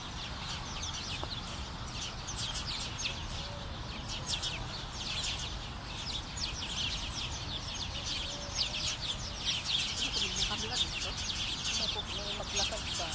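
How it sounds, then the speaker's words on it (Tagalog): Birds, including chicken-like clucks and small chirps, call outdoors throughout, faint and mixed under people talking nearby against a steady background hiss. "Narinig ko yung mga ibon."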